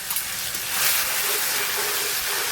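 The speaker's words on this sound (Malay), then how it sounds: "Kita akan goreng bawang putih dulu ya kawan-kawan." Garlic frying in hot oil mixed with shrimp paste, a steady, dense sizzle and hiss that holds evenly throughout, close and without talk.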